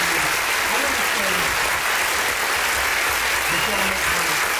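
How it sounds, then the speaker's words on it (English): An audience claps steadily and loudly throughout, a dense, continuous wash of applause with no pauses, filling the space close to the listener. "Can I get a clap real quick?"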